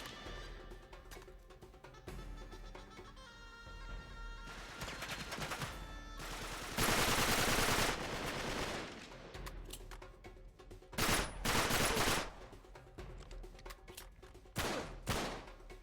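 Gunfire in the video game Uncharted 3: repeated bursts of automatic weapon fire, loud and close, with brief pauses between volleys over a game soundtrack.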